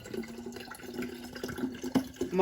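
Water poured from two 500 ml plastic bottles into a jug, a steady faint trickling and splashing lasting a couple of seconds with small bubbly bursts near the end.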